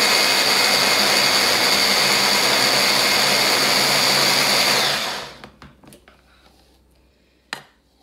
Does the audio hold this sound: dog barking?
no